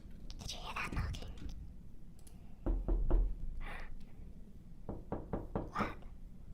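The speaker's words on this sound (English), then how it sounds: "There's a lot knocking at the door." Rapid knocks on a door come in two bursts, first three quick raps and later a run of four, close and fairly loud, with hushed whispering voices around them.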